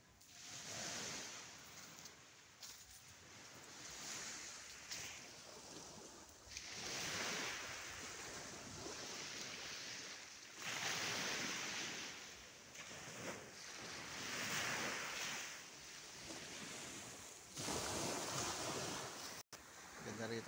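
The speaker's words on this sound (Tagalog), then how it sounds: "Ganda rito sa tabing dagat." Waves break and wash onto a clean beach at Bansud, a steady surging roar rising and falling in repeated swells, with wind buffeting the microphone.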